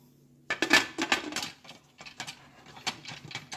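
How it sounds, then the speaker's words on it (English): A glass jar set down into a metal pressure cooker, giving a cluster of clinking, knocking contacts over about three seconds, close and fairly loud with no talking. "all you do is just insert your jar to your pressure cooker"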